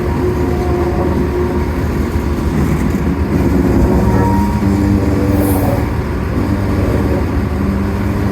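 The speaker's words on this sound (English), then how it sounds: "Got our morning train in." A freight train rumbles steadily along the tracks, loud and close, with a constant low drone and metallic rattling throughout.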